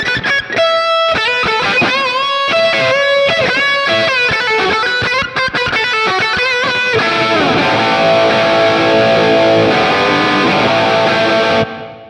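Electric guitar lead tone through a NUX MG-30 with EQ, IR and a bit of reverb: a fast run of sustained distorted notes, then a long held bend ringing out before stopping, loud and alone.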